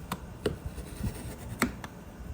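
Scissors or a blade cutting through a Common Planner paper notebook to trim it down for a Pocket Plus cover, giving a few sharp snipping strokes and soft rubbing of paper at close range, with no talk.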